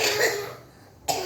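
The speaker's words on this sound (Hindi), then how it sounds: "बार बार खांसी आती है" A person coughs once at close range, a short rough burst heard alone without speech, during a spiritual discourse.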